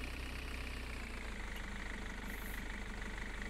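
Street cleaning vehicle engine running in the Street Cleaning Simulator 2011 video game, a steady low idling rumble with constant hum and no talk.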